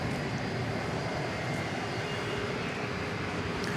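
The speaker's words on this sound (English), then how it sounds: "It's a 757, one of my favorite aircraft." A Boeing 757 roars at DFW Airport at night, a broad, steady engine rumble and hiss that stays loud and constant throughout.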